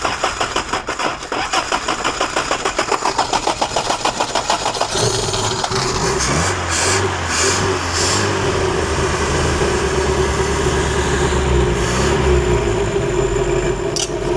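Toyota pickup engine cranking with a rapid rhythmic chug, then catching and settling into a steady, close, loud idle while running on gas poured from a can.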